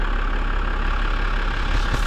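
A 2005 BMW 535d E61 diesel engine idles hot: a steady, even mid-low hum with no knocks or irregular beats, heard close and continuous throughout.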